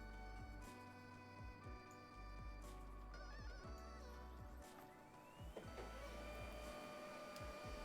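A home printer runs through a multi-page job with a steady mechanical whir and repeated clicking carriage strokes at close range, no voices.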